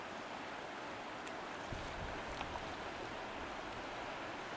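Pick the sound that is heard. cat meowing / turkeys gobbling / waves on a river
waves on a river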